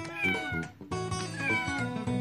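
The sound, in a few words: kitten meowing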